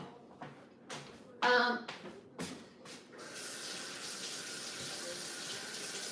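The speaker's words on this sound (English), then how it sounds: "I gotta rinse my hands off now." Hands are rinsed under a running tap, with a few splashy bursts at first and then a steady, hissing flow of water into a sink, close and moderately loud.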